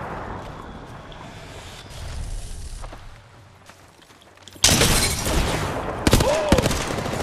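Apex Legends gunfire plays on console: quieter distant shots and game noise first, then a sudden loud burst of close rapid firing with a rising whine, under occasional excited talk.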